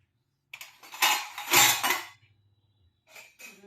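Dishes, pots and steel utensils are stacked and put away, with clattering clinks in a loud burst and then a few softer knocks after a pause.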